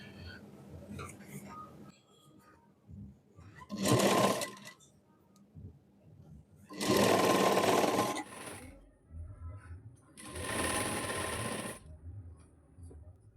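A sewing machine stitches a double cut-work blouse in three separate runs of rapid mechanical whirring, the bursts growing longer, with quiet handling and soft speech in the pauses between them.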